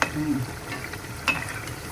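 Yam fritters (suran bhajiya) frying in hot oil give a soft, steady sizzle, with a few brief scraping clinks of a utensil stirring or turning them.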